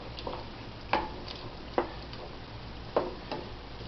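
Diced mushrooms for a ragu sizzle quietly in a pan, with a soft steady frying hiss and a few distinct scrapes and taps of a utensil as they are stirred.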